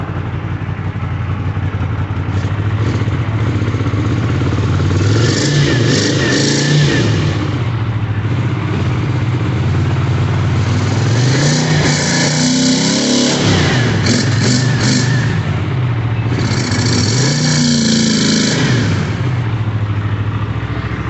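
An old motorcycle engine runs for the first time after a rebuild, roaring loudly and steadily nearby. Several rising and falling revs swell over the running engine.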